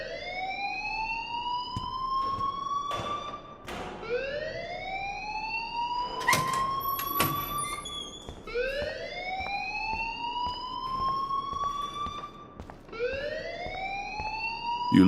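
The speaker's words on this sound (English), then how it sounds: "please turn off that alarm since that's your job" An alarm in the video game Life Is Strange wails in repeated rising siren-like sweeps, each lasting a few seconds, loud and continuous, with scattered clicks between cycles.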